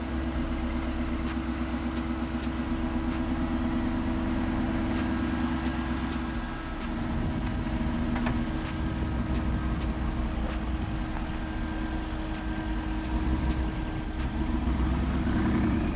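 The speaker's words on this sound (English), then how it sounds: "now the G-Wagon confidently drives forward." A Mercedes G-Class SUV crawling forward over an off-road obstacle course, its engine a steady low drone held close and constant throughout, with faint scraping and mechanical noise layered on top.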